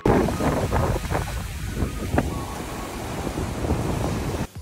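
Loud wind buffeting the microphone over rumbling surf, with strong sea waves washing against the shore at Bukit Singa, Pulau Kapas, in a continuous roar.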